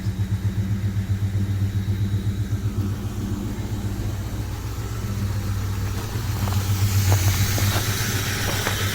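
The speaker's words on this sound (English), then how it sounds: "we'll let it idle there and make sure nothing's leaking" A car engine idles outdoors on a freezing cold night, a steady low rumble with a faint regular pulse, close and continuous, with a light ticking and clatter growing louder toward the end.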